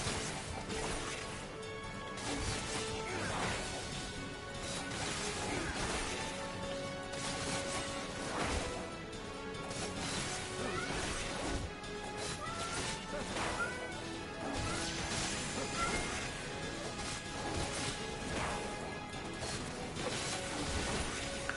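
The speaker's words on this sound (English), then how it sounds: "These cats are like they're like hitting at each other through the door" Cats swat and hit at each other through a door in Final Fantasy XIV, giving scattered quiet thwacks and crashes over a continuous bed of game music.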